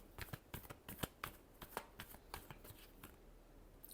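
Tarot cards being shuffled by hand in a series of crisp riffling slaps and flicks, close and fairly quiet, with a steady irregular rhythm and no voices.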